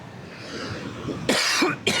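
After a quiet stretch of low room noise, a person near the microphone coughs in two sharp, loud bursts.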